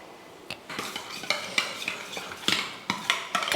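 Curd and onion being mixed in a bowl for raita, a spoon scraping and clinking against the bowl in a run of short, fairly close strokes.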